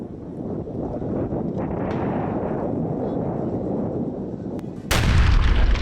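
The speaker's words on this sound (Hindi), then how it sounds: "गाजा में फिर तेज हुई बमबारी। करीब आधे घंटे से जारी है गाजा में बमबारी।" Bombardment in Gaza during the Israel-Hamas war: a dense, continuous low rumble of distant explosions fills the air, then a sudden, much louder and sharper blast bursts in near the end and keeps roaring, with what may be faint voices underneath.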